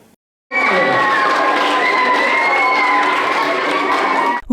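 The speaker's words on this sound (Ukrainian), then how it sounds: "Гучними оплесками учнів молодших класів ліцею колегіум зустрічають паралімпійських спортсменів." Young pupils at a lyceum cheer, shout and clap loudly and continuously to welcome Paralympic athletes, a sustained high-pitched crowd roar that starts abruptly after a brief silence.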